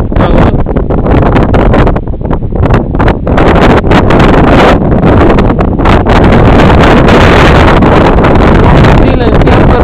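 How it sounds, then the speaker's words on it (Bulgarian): Strong wind gusting over a rocky summit of Mount Olympus near Mytikas, roaring and buffeting the microphone at close range, loud and continuous with rushing surges. "Силен вятър, много студено"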